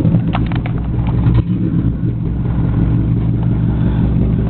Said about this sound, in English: Get a little exhaust sound, guys.